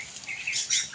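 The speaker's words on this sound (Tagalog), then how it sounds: "Gusto ko rin na mapakinggan ninyo mga ibon." Birds chirp and tweet in bright, overlapping calls in a forest, fairly close and lively, with no voices.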